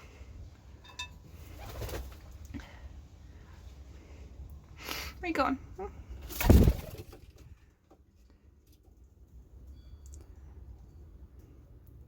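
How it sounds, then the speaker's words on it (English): Pigeons coo in a loft, several soft rounded calls scattered through the stretch with one louder burst near the middle, heard close alongside a person talking to the birds. "look at that round bird."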